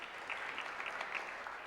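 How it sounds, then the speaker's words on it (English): Brief, faint applause from an audience at the MA Women's Political Caucus Good Guy Awards, a soft, even patter of clapping heard from a distance for under two seconds. "Yes, you can applaud."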